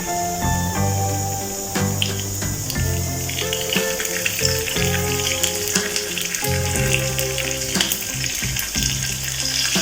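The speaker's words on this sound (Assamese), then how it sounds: "বেহাৰ অলপ দি দিব লাগে, বেহাৰ অলপ ফুটাবলৈকে লাগে" Mustard seeds and spices for tempering crackle and sizzle in hot oil with constant popping, close up, alongside clinks and scraping from stirring.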